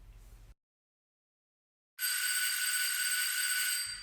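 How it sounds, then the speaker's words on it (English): A doorbell rings indoors after a short silence, a bright, continuous metallic ringing with a fast pulsing rattle that lasts almost two seconds before it stops sharply. "The doorbell's never rung before."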